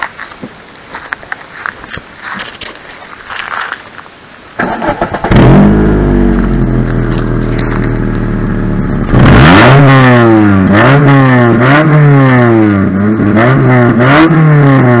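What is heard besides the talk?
Mitsubishi Carisma 1.8 engine starting and revving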